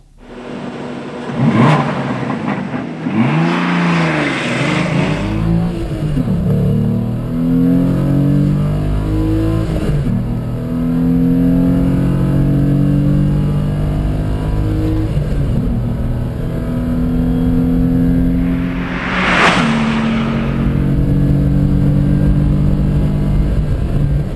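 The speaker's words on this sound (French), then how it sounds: "le 400 mètres maintenant, départ arrêté est donné pour 14 secondes 5" Renault Clio V6 accelerating hard from a standing start over 400 m, the loud engine climbing through several gear changes with rising whine and a brief lift near the end, steady and close throughout.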